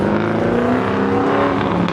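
A race car drives hard at an autocross event, its engine holding a loud, steady, close-up roar with a rising and falling harmonic drone and no speech over it.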